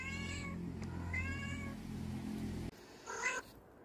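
Cats meow up close in several plaintive, drawn-out calls, with two overlapping cries early on and a shorter sharp meow after a brief pause.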